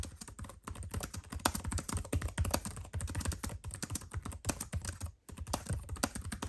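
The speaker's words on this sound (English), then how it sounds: "the sound of the X1 Carbon keyboard is just, well, listen to it" Rapid, steady typing on a Lenovo ThinkPad X1 Carbon laptop keyboard, close and clear, with a brief pause near the end before the clicking resumes.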